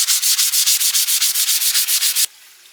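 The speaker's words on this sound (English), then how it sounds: "I'm going to sand that now, as well as give the panels a bit of sanding with like a really fine grit" Fine-grit sandpaper rubs over wood filler and veneer panels in fast, even back-and-forth strokes, loud and close, then stops suddenly, leaving quiet room tone.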